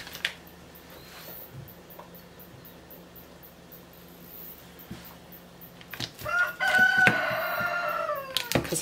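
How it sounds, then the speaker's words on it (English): A rooster crows outside an open window, one distant call rising late in the clip over a quiet room with a low fan-like hum. "Rooster saying hello."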